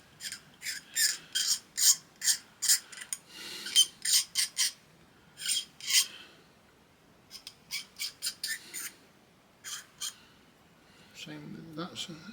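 A hobby knife blade scrapes seam lines from a plastic part of a Tamiya 1/16 Kübelwagen model kit, giving repeated short, close, rasping strokes in bursts with pauses between them.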